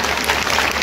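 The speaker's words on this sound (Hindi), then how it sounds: "आप लोग जोरदार तालियां बजाइए।" At an all-India humorous satire poetry conference in Wardha, an audience claps in a brief, dense burst of applause, loud and continuous across the short moment.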